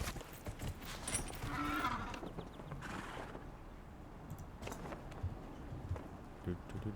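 Horse hooves clip-clop in a steady walking rhythm in Dragon Age: Inquisition, quiet and close, mixed with faint game ambience and soft mechanical rustles.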